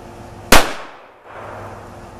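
A Colt Combat Unit pistol fires a single sharp, loud shot at a 25-yard range, with a brief decaying tail over steady outdoor background noise.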